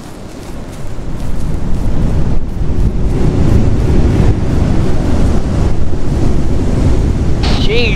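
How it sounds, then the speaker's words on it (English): Strong wind roars and buffets the microphone on a cold winter boat ride, a dense continuous rush with water noise beneath it that swells after the first second and stays loud throughout. "Jeez, the wind is loud."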